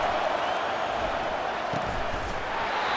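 Steady, dense crowd roar fills a stadium in EA Sports College Football 25, a continuous broadband wash of cheering that holds at an even level throughout without breaks.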